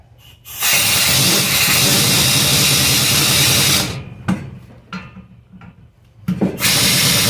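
Power tool running down a brake caliper bolt on a 1966 Formula S, a loud steady whir lasting several seconds, stopping, then a few short bursts and a final restart.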